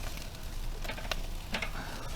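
Steak frying on a charcoal grill at home, a steady close sizzle with a few brighter crackles and pops running throughout, no talking.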